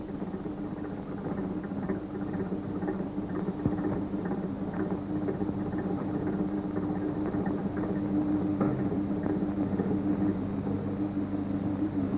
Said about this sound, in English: Round here, there's a motor haulage engine.